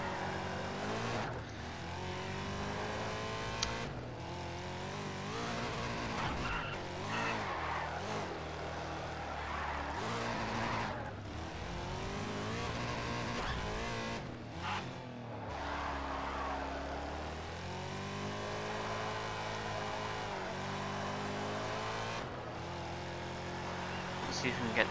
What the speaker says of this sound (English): See if we can get the drift right this time.